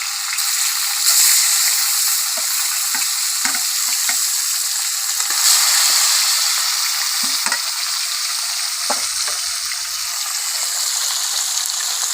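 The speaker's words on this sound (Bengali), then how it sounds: "ওইদিকে মাছ ভাজা হবে" Catla fish frying in oil in a village kitchen, a steady bright sizzle throughout with occasional soft pops and stirring clicks, close and fairly loud, no talk.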